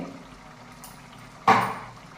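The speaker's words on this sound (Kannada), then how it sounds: "ಒಂದು ಅರ್ಧ ಗ್ಲಾಸ್ ನೀರು ಹಾಕ್ಕೊಂಡಿದ್ದೀನಿ" Half a glass of water splashes into a pan of coriander chicken fry, a short sudden pour and sizzle rising out of a quiet kitchen and fading within a second.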